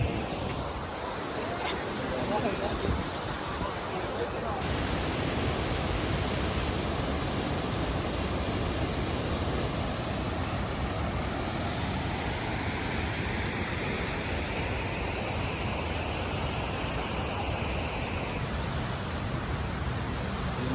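Cameron Falls, a waterfall in Waterton, Alberta, pours in a steady, dense broadband rush, loud and continuous, with faint voices of tourists blended into the roar.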